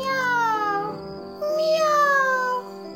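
Several cats meowing in drawn-out, rising and falling cries, two long calls separated by a short gap, loud and close with no talking.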